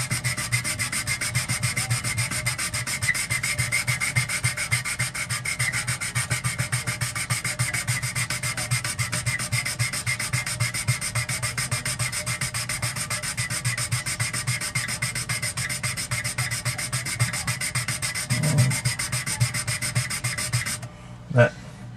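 Sandpaper rubbing steadily back and forth over a cracked acrylic aquarium panel, a close, continuous rasping scrub with an even rhythm that stops abruptly near the end.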